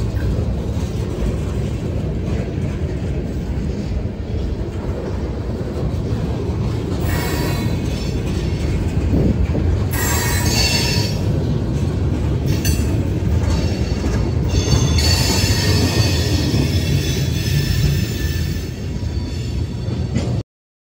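A train rolls on the Seminole Gulf short line railroad in Southwest Florida, a close steady rumble of wheels with bursts of metallic squeal and clinking from the middle onward, then abrupt silence at the very end.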